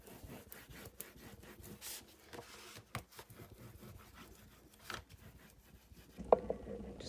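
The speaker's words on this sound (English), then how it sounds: "Give it a good burnish quickly, especially if you used our glitter glue" A bone folder burnishes glued paper onto the spine of a Christmas pocket waterfall folio, making soft, faint rubbing strokes in an irregular rhythm, with a brief clearer scrape near the end.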